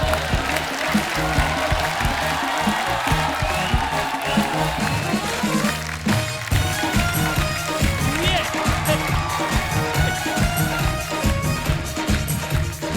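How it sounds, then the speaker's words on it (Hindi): A studio audience at an Indian comedy show claps loudly and steadily, a dense sustained roar of applause lasting throughout. "आप सबकी जोरदार तालियों के बीच"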